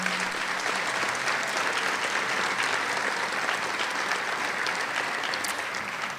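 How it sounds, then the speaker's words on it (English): Sustained applause from a graduation audience in a high school gym, steady and dense throughout with no pause. "One more round of applause for them"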